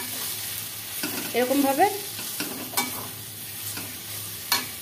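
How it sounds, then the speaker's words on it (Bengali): Pre-fried potatoes sizzle as they are sautéed and stirred in a pan, with spoon scrapes and clatter in irregular strokes close by and a few brief spoken words. "আলুটা দিয়ে আমি আরেকটু কষিয়ে নিচ্ছি"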